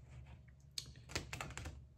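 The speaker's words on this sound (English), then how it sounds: "So we're going to shuffle this deck because I haven't shuffled it." Oracle card deck being shuffled by hand, quick papery riffles and flutters in short bursts, close and fairly soft, with no talking.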